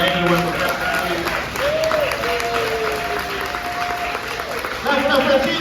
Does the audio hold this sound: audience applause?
yes